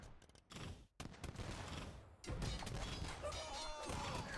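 Cannon galleons firing in a naval battle in a strategy game, a dense fusillade of booming shots and crashing impacts that rolls on almost without pause, loud and close.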